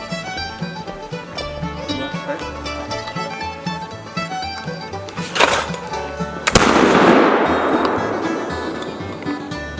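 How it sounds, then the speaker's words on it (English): An old Spanish flintlock musket fires a single loud shot at an outdoor winter flintlock shooting match, a sharp crack followed by a long rolling boom that decays over several seconds, with music-like tonal background throughout. "One heck of a neck shot. Right. With my old Spanish musket."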